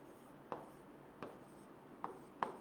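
Faint chalk or marker taps on a board, four distinct knocks spaced irregularly against a quiet room background with no talk.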